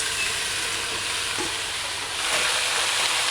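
Chopped bok choy sizzles in a pan over low heat, a continuous close hiss that swells slightly toward the end, with no voices.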